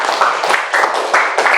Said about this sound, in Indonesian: tepuk tangan untuk kelompok Inggris.